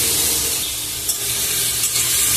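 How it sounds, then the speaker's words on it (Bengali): Onion and pointed gourd sizzle in hot oil, a steady, close crackling hiss with a few small pops, no voices over it. "দেখুন তেল গরম হয়ে গেছে, একটু পেঁয়াজ দিলাম। এবার আমি ছেড়ে দিলাম পটল।"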